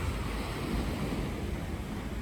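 Ocean surf breaks steadily on a beach in Puerto Rico, a continuous broadband wash of waves with some wind rumble, loud and close throughout with no voices.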